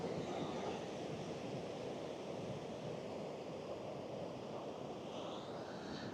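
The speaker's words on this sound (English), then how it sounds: "There's a sea. I think we're coming up to high tide, possibly" Sea waves rolling onto a Norfolk beach at Mundesley near high tide, a steady broadband wash of surf with some wind noise, continuous and moderately loud throughout with no talking.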